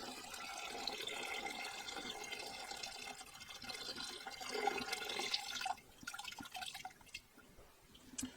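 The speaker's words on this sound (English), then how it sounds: "let's get this drained out" Water draining from a Lake Country System 4000 pad washer, a steady close trickle and splash that thins out halfway through into scattered drips and gurgles.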